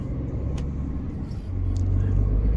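Low rumbling car engines in street traffic, a vehicle nearby swelling louder toward the end, with occasional faint clicks.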